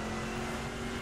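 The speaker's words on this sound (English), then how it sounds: "where you can literally feel the bass note and the rumble, the popping of the exhaust" Classic American muscle car engine in the video game The Crew gives a steady, dense rumble that runs unbroken and fairly loud for a second, with no voices over it.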